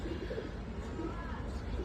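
Pigeons cooing in a home loft among young birds, soft low repeated coos over a steady murmur of other birds nearby, moderately loud throughout.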